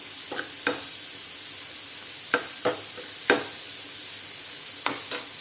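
Green chilli pickle with turmeric sizzles steadily in a pan, a constant close frying hiss broken by several sharp spoon taps and stirring knocks against the metal, with no talk.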